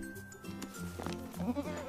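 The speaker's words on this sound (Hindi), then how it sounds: "लगता है इसके लिए हमें बकरी चाहिए।" A goat bleats in a couple of short, wavering calls at moderate distance, with faint background noise and no speech.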